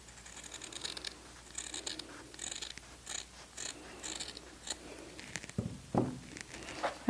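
Scissors make repeated crisp snips while cutting fabric in a straight line for a handmade wallet, a steady series of close, fairly quiet cuts with a louder clack near the end.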